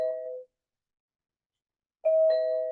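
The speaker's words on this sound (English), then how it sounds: "Sorry, that's the doorbell downstairs." A doorbell ringing downstairs, two clear chime tones separated by a short silence, heard alone and fairly distinct.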